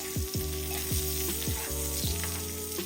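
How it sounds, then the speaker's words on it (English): A steak sizzles steadily in a hot pan as melted butter is spooned over it, with a rhythmic series of spoon scrapes and splashes against the pan every half second or so. "I'll go ahead and tilt back the pan and start spooning over that melted butter on our steak"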